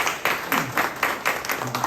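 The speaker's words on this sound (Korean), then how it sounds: "박수 부탁드리겠습니다" Applause from a seated audience at a business talk, following the introduction of a venture capital CEO as presenter; a fairly dense clapping with regular bursts, moderately loud and close, lasting under two seconds with no talk over it.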